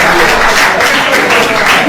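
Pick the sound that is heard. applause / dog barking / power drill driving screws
applause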